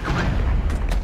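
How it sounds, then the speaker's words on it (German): Dense, rumbling battlefield din from the real-time strategy game Regiments, with artillery fire booming and overlapping in a sustained, loud low-frequency roar and no distinct individual shots, no talking. "Können wir hier Arti hinschicken?"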